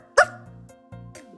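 A person mimics a small dog's bark with one sharp, high-pitched yelp, followed by quieter sounds and a faint second yip, with a steady background tone underneath.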